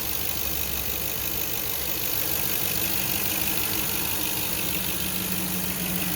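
A detailed Ford 4.6 car engine running under an open hood, heard as a steady, close idling drone with a dense even hum that holds unchanged throughout.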